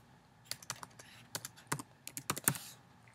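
Keys tapped on a computer keyboard while typing a function name into a spreadsheet help menu, a close burst of a dozen or so quick, uneven clicks with short pauses between them.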